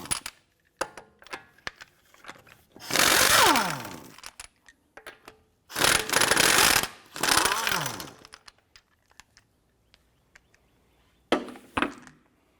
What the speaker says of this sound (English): go ahead and remove your lug nuts